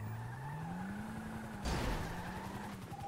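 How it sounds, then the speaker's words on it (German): A car in the video game GTA V rams another vehicle: a rising engine drone, then a sudden crunching impact midway, followed by continued engine noise, with no speech. "Die rammen gerade das andere Fahrzeug weg."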